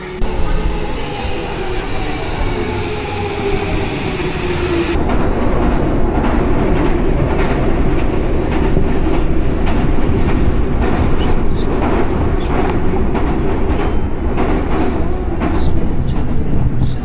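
A passenger train runs on rails with a loud, close, continuous rumble and regular clickety-clack of wheels over joints, the noise thickening a few seconds in as the train picks up pace.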